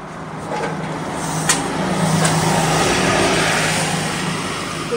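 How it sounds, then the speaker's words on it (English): A very loud bus passes outside a former Ames and Hills department store, a broad, steady engine and road rumble that builds and then fades slowly, with a few sharp clicks and no talking. "The very loud bus."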